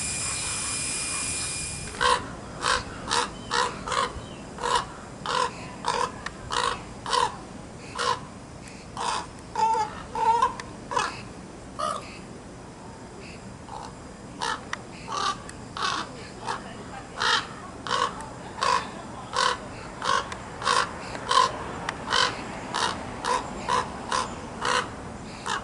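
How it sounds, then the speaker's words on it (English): Raven calling on a California road trip: a long series of harsh, hoarse caws, about one per second with several short gaps, clear against a faint steady background hiss. No speech is heard. "Crazy Raven."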